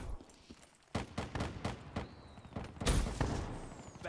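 Several sharp gunshots from a no-scope sniper rifle in a video game, irregularly spaced over a few seconds, with a louder blast near the end under faint background game noise.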